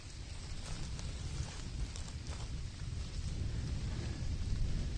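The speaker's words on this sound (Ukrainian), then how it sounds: "Дощик поки що дрібний." Light rain patters steadily in a Carpathian forest, a soft continuous hiss with faint scattered drops, low and even with no voices.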